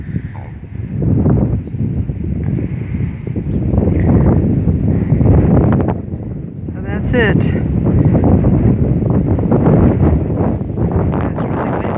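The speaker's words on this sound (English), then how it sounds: "It's really windy." Steady wind rumble and buffeting on the microphone, running throughout beneath a person talking close by.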